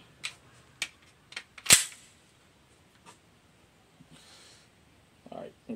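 A Canik TP9SFX pistol fires a magazine at a range: sharp, spaced shots, one especially loud and close, followed by quieter clicks and handling sounds.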